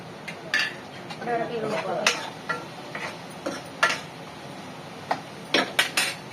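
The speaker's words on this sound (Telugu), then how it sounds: "ఇలా అయితే కట్ చేసేసుకుంటున్నా" Food being chopped into small pieces in a restaurant kitchen, heard as irregular sharp knocks of a knife on a board, some in quick clusters, with light clinks of dishes between them.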